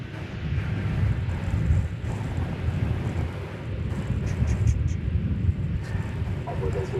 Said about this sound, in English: You may hear the wind in the background.